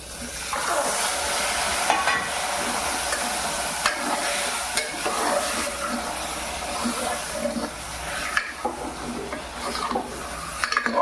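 Mutton sizzling steadily in a hot pan with homemade spice masala while a utensil stirs and scrapes it at intervals, close and fairly loud, with no voices.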